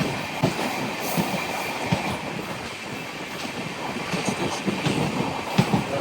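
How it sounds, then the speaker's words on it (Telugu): A train rumbles past steadily at a station crossing near Karaikudi Junction, heard from another train, with rhythmic wheel clatter and occasional sharp clicks over the rails, fairly close and continuous throughout. "సో మనం వచ్చేసి ఒక ట్రైన్ అయితే ఇప్పుడు క్రాస్ అవుతున్నాము."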